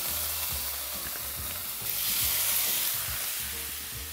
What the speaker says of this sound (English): So for the bacon, I'm only gonna cook like 2 slices